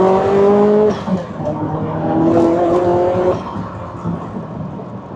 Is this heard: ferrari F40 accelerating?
yes